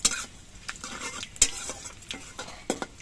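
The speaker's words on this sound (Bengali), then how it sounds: "এবার সব মশলাগুলো ভেজে নেব" Dried chillies and whole spices, including panch phoron and radhuni, frying in oil: a quiet sizzle broken by several sharp metallic clicks and scrapes of a spatula stirring the pan.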